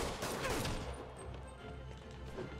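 Gunfire erupts in a Spider-Man video game, a dense fusillade of shots mixed with crashes and impacts over a busy, continuous game soundscape.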